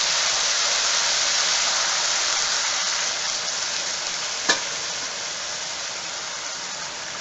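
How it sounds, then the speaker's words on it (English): Vegetable stock poured into a hot pot of basmati rice and vegetables, giving a loud, even rush of hissing sizzle that holds steady with one brief knock partway through. "start adding the stock"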